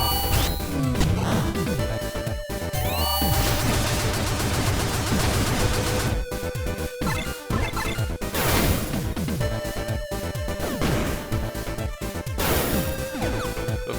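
The Wave Blaster weapon fires in Blaster Master Zero 3, rapid repeated blasts and crashing impacts in dense bursts with short gaps, loud and close over tonal game music.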